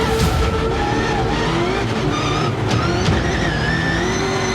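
A blue Subaru rallycross car tears through a lap at full throttle, its engine roaring loud and close with rising gear-change whines, tire scrub and skids over constant race noise.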